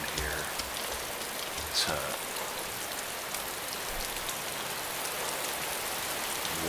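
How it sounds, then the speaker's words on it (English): Rain in the DayZ Epoch game: a dense, constant hiss of falling rain on surfaces, steady throughout, with a faint brief voice and a small bump of another sound partway through. "The rain picked up."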